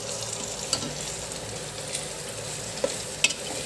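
Andhra-style mutton curry fries in a pan with salt, turmeric, chili powder and garam masala, a steady close sizzle broken by occasional scraping stirs and small clinks, with no talking.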